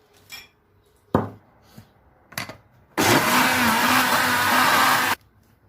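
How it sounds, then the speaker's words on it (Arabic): A few short clanks and bumps, then an electric mixer whirs steadily for about two seconds before stopping. "هبتدي اضربها في الخلاط طبعا."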